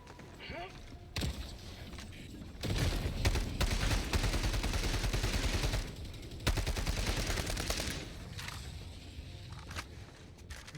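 Gunfire in the video game Helldivers 2 during a battle against robots, rapid sustained bursts with short gaps between them, loud and dense, with someone talking over parts of it.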